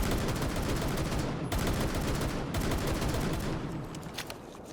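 Rapid repeated shots from the 417 DMR in Rainbow Six Siege, a dense run of sharp cracks with short pauses between bursts, loud and close with no voices.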